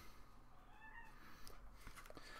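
A cat meows softly indoors, a faint drawn-out call with rising and falling pitch over low background noise.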